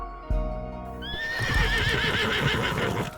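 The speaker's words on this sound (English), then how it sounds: "Raphael and I get on our horse." A horse neighs in the video game Love and Deepspace, a loud, close whinny with rising and falling pitch over a busy game soundscape, alongside the thump of hooves and a low musical drone.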